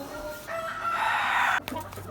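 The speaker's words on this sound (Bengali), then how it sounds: "আমার মোরগ মুরগি ওরা ভিডিও করার সময় শুধু ক ক ক" Chickens call out nearby, a drawn-out rooster-like squawk for about a second, followed by a few short clucks.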